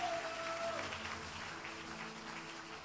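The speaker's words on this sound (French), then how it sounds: "Acclame très fort pour le Seigneur." A church congregation at an evening worship service claps and cheers for the Lord, a fairly faint wash of applause that keeps going and tapers slightly while a tone sounds briefly at the start.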